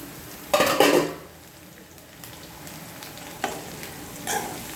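Onion, tomato and green chilli hit hot oil in a pan for paneer butter masala, bursting into a loud sizzle that eases to a steady fry, with a few later spatula scrapes and stirring flare-ups.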